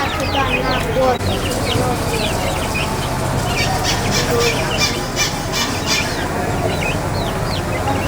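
Chickens squawk and cluck busily over a dense, noisy background, with bursts of calls overlapping throughout.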